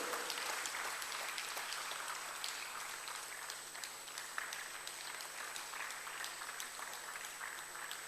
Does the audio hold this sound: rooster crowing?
no